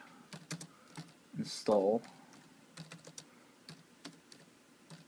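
Keystrokes on a computer keyboard during a Gnome 3 install on PC-BSD, a quick run of light clicks and taps with a brief louder burst in the middle, mixed with a person's speech.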